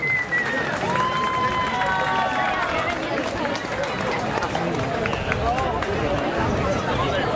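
Audience at the Orlando Japan Festival applauding a Florida Sumo Association sumo wrestling performance, a dense steady wash of clapping and crowd noise throughout, with an announcer's voice and whistles or cheers rising over it.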